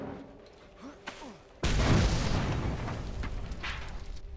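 A tank explodes in the Mad Max video game, a sudden loud boom after quieter game sounds, followed by a rumbling, crackling blast tail that slowly decays.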